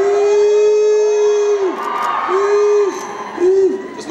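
A theatre audience screams and cheers on cue, loud sustained shouts rising and falling in three waves, with a siren-like wail carrying each burst.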